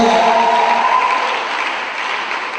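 A church congregation claps together in a steady, full burst of applause that fades slightly toward the end, with no voices over it.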